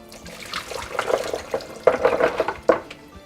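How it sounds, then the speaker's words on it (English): Cloudy soaking liquid drained off almonds splashes in a few uneven bursts of pouring water, fairly close, with stronger gushes near the middle and end. "What we're going to do is drain off this liquid"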